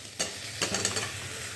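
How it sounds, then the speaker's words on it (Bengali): Fried potatoes go into a hot pan of peas and spices, with a couple of sharp scraping stirs and a soft sizzle close by, no talking. "এবার আমি ভেজে রাখা আলুগুলো দিয়ে দেবো।"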